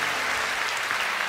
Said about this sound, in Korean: 우리 박수로 축복하고 격려하겠습니다